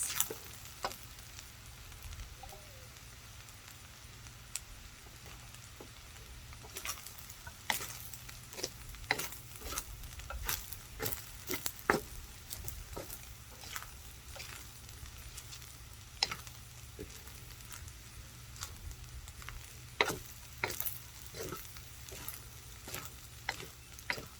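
Bacon fried rice sizzles steadily in a pan, with a soft, constant frying hiss broken by frequent sharp scraping and tapping clicks of stirring, fairly quiet and close.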